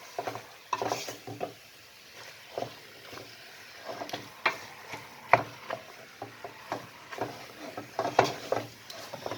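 Meat cooks in a pan with ground spices for a curry, stirred with repeated scraping strokes over a soft, low sizzle, heard close and without talk.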